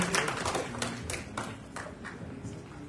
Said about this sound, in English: let's give a shout and then a hand of applause to him